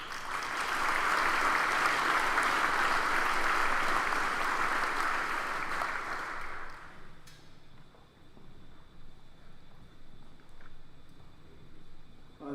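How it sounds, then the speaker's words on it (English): An audience at a high school graduation ceremony claps loudly and steadily for students receiving scholarships, then the applause fades out after about seven seconds, leaving a quiet hall. "Please give these students a round of applause also."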